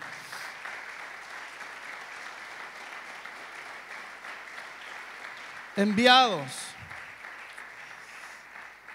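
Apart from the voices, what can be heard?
audience applause in church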